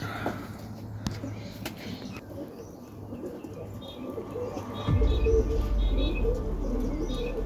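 Serbian highflyer pigeons coo softly at their loft in Melbourne, Australia, with faint chirps and wing sounds against a steady outdoor rumble that grows louder partway through.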